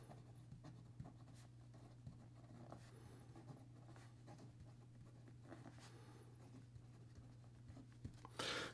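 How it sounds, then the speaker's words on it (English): A Franklin Christoph fountain pen writes a sample on paper, faint steady scratching strokes close up over a low hum, without speech. "And here we go with the rest of the writing sample."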